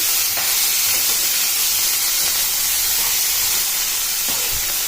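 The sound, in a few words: Bengal gram chickpeas being stirred in a pan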